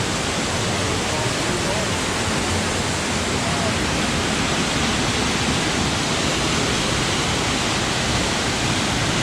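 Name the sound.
Blue Hole Falls waterfall at Laurel Creek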